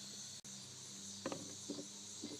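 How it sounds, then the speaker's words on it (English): Insects chirp outdoors in a steady, continuous high-pitched drone that runs through the whole stretch, with a few soft nearby handling knocks underneath. "You can hear the bugs."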